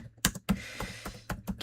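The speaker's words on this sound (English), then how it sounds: "Years of keyboard mashing" Fingers tap irregularly on a computer keyboard, a close cluster of about a dozen crisp clicks with uneven rhythm and no voice.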